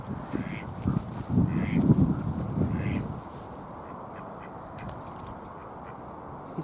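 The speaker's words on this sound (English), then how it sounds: "none of the ducks are interested in it" Ducks quack a few times close by outdoors during a short walk, with soft nasal calls over a low rumble for about three seconds before the scene settles into quiet background noise.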